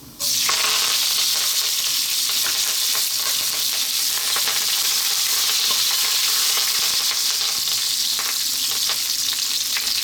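Fresh curry leaves and cumin seeds hit hot oil for a beef curry, giving a loud, continuous, bright sizzle with crackling spatters that holds steady throughout, close up and free of talk.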